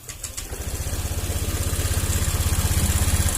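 A Honda Vario 125 scooter engine settling into a steady idle right after starting, with a close, even, rapid putter that grows slightly louder and holds a constant rhythm throughout.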